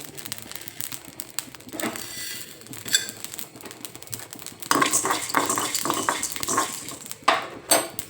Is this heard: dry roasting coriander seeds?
yes